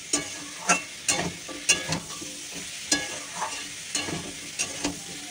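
Bitter gourd curry sizzles in a pan while a spoon stirs it, giving a steady fry hiss broken by regular sharp scraping clicks roughly every half second, close and clear with no talk.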